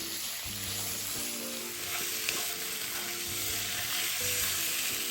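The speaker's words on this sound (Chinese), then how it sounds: "再將爐轉中高火，一直將雞肉炒至色澤轉白" Chicken pieces and shiitake mushrooms stir-fry over medium-high heat for Nyonya pongteh chicken, making a steady, dense sizzle with light stirring and a low steady hum underneath, no talk.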